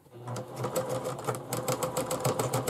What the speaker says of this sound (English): I'm using a simple straight stitch.